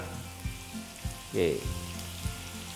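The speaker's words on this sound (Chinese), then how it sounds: "然后把它翻炒， 记得全程大火，不要小火" Aromatics stir-fried over high heat in a wok for Foochow red wine chicken give a steady loud sizzle with a few spatula scrapes and clanks, close up.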